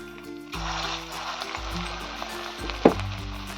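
Pumpkin kofta balls frying in hot oil over lowered gas, a continuous soft sizzle with a few low thuds and one short sharp clink near the end, no voices.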